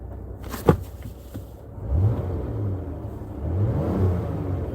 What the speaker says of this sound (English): I don't like the way how this van sounds, by the way.